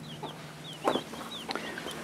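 A hen and her chicks on a hillside property give soft, scattered clucks and faint peeping chirps, fairly distant and quiet over light outdoor background noise.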